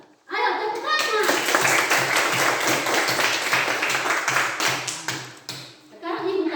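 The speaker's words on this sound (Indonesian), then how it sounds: "Ayo tepuk tangan." Children in a classroom clap their hands together in a loud, sustained burst of rhythmic claps that fades briefly before picking up again, with a voice faintly audible near the end.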